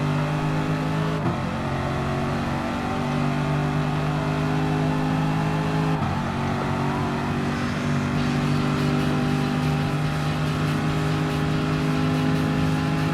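Race car engines in Gran Turismo Sport during a Gr.3 endurance race at Le Mans, with a Nissan GT-R and Corvette: a steady loud droning engine tone with shifting pitch as gears change, continuous and close.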